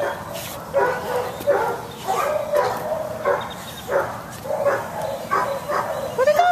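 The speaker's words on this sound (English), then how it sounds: "There's a silly puppy." A puppy yips and barks repeatedly in a steady string of short, high calls at moderate distance, with faint background noise and no speech.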